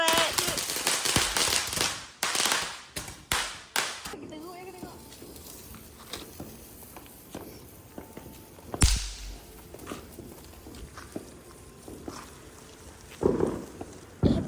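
Firecrackers go off during Ramadan and Syawal celebrations, with a quick cluster of sharp, loud cracks early on and a few more scattered bangs later. Voices and other background noise sound between the bangs.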